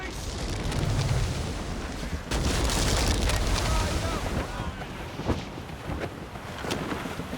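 Sailing ship catching wind in the game Assassin's Creed Rogue: a loud, continuous roaring rush of wind and sea with heavy low rumble, swelling and easing, a brief dip midway before the roar resumes.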